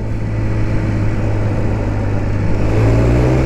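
Triumph Speed Triple RS motorcycle from 2021 accelerating on a road ride, a steady loud engine drone that rises slightly in pitch toward the end, heard alone without voices.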